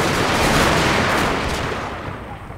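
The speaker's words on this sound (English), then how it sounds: "Now we're just gonna have the men keep shooting at him until they're out of range." Massed musket volleys from soldiers in a Total War: Shogun 2 Fall of the Samurai battle, a dense, continuous crackle of shots that stays loud and then thins slightly toward the end.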